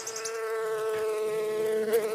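Bees buzz steadily in a bee yard of about 30 hives, a continuous close, loud drone with a sustained hum and no voices.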